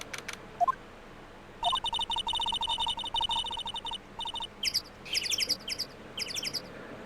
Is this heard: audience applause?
no